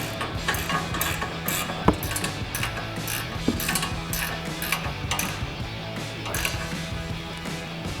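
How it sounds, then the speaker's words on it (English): A 19mm ratcheting wrench tightens a tie rod nut on a 2005-2009 Mustang GT front suspension, giving rapid, repeated pawl clicks in quick bursts, close and clear, with a single sharp metallic knock partway through. "So now we'll tighten down our nut with our 19mm ratcheting wrench."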